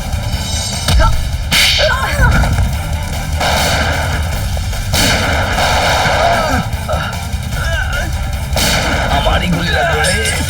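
A television crime-drama shootout brings sharp, loud gunshots cracking in bursts, with booming impacts and whooshes over a dense soundtrack.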